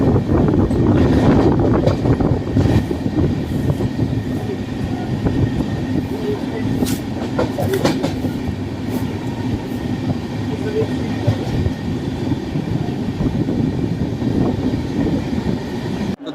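Train 12650 Sampark Kranti Express running near Jhansi, a steady loud rumble of rolling wagons with faint clickety-clack over the rails, heard from on board throughout.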